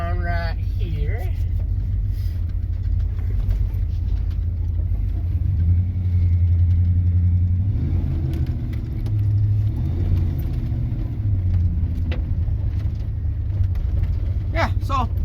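Ford F-Series XLT pickup with a bench seat, engine rumbling steadily at low speed while the truck drives and turns around, heard from inside with someone talking over it.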